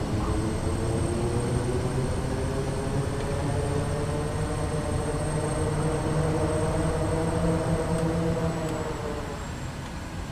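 Sustained drone of a Kodiak 100 turboprop's reverse thrust during landing rollout in a flight simulator, steady and loud with tonal engine whine, easing off slightly toward the end.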